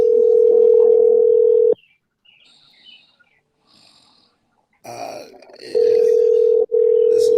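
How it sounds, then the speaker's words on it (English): A loud, steady telephone dial tone hums during a call back, cuts off abruptly into near-silence and a few faint noises, then returns with a brief break. "That's me calling Lady Alicia back"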